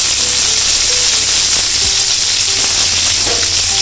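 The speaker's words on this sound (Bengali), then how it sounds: "তেলে এগুলো ভালো করে কিছুক্ষণ একটু ভেজে নেব" Chicken frying in hot oil with chopped ginger and garlic gives a loud, steady, close sizzle and hiss, with a few faint utensil knocks scattered through it.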